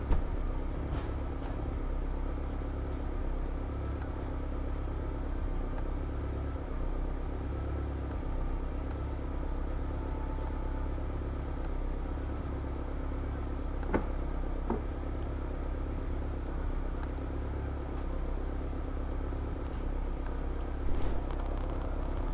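A Honda Civic engine idling during tuning holds a steady, even low rumble throughout, with a faint click or two and no voices.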